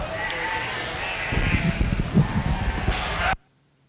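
Sheep bleat in the show ring at the 2024 Laramie County FFA market lamb show, a few calls rising over a busy, noisy barn background, moderately close and fairly loud, ending abruptly.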